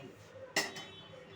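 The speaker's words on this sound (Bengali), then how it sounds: "এই কড়াইটা বসিয়ে এবার এই গাজরটাকে ভাজবো।" A kadai (wok) set down on a stove before frying carrots for halwa: one short metallic clank with a faint second knock just after, quiet and close against a soft kitchen background.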